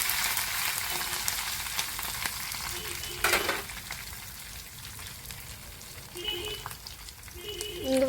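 Curry leaves sizzle and crackle in hot oil as a tempering for village-style mango pickle, a steady close frying hiss with occasional louder spits and pops, and no voices.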